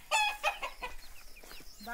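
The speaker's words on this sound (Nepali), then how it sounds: "यो चाहिँ हाम्रो काली कुखुरा है," A black hen clucks close by in a short run of sharp, rising calls, followed by softer, scattered clucks.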